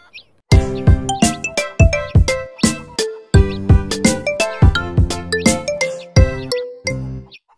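A bright toy bell in a children's cartoon rings repeatedly in an irregular run of clear, ringing strikes, each decaying quickly, loud and close with no talk.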